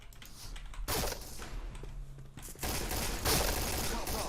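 A Gatling gun in the Point Blank shooter game fires in dense, rapid bursts. The continuous rattling fire has a short pause before it resumes louder, with faint mechanical clicks between the bursts.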